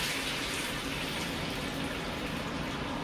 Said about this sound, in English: I have some beef stock dissolved into water. I'm just gonna pour it into here.